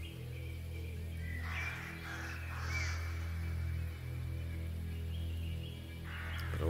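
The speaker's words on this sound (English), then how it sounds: "It's a very angry bird out there." An agitated crow caws repeatedly outdoors at moderate distance, harsh calls rising over a steady low hum and background noise.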